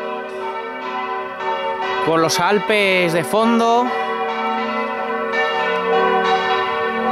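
Church bells ring at the church in Schwangau with the Alps behind, a steady peal of layered tones that carries throughout while someone speaks over them.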